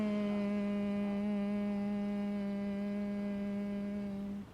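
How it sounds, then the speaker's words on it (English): A single sustained human hum on a slow exhale during a yoga breathing exercise, steady and close, holding one low pitch for about four seconds before trailing off. "As you exhale, make that humming sound sensation out."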